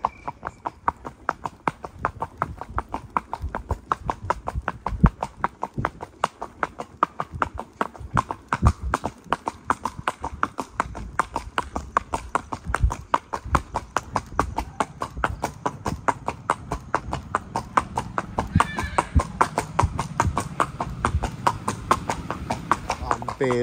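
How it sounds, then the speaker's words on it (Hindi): Horse hooves clip-clop at a brisk walk on a night ride, a steady even rhythm that runs throughout, with a voice talking now and then. "घोड़े ने आज पूरा रास्ता इसी तरह से तय किया है, बिल्कुल ब्रिस्क वॉक में।"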